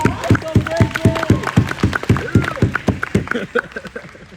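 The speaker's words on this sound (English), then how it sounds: "You'll give my friend a big round of applause." Keynote audience gives a round of applause, dense, loud clapping from a crowd in a hall with sharp rhythmic hand strikes, fading toward the end.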